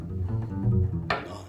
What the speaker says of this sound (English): they play pizzicato, which is plucking the strings with a finger